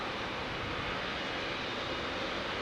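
A Boeing 777 roars along Heathrow runway 09R, a loud, steady broadband jet rumble filling the air at close range with no voices.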